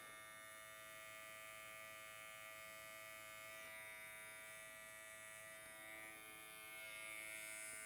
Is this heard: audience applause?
no